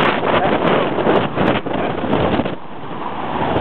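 Strong gusts at Dover port roar across the microphone in loud, continuous buffeting, dipping briefly before surging again.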